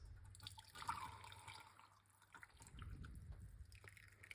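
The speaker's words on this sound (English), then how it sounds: "Pour it out like this." Thyme tea being poured into a cup, a soft, quiet trickle of liquid with light drips, close by, with no voices.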